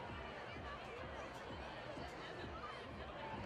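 A student section crowd at a high school football game, the Fairmont fans, roars in a dense, steady wash of cheering and chatter with no break or lull.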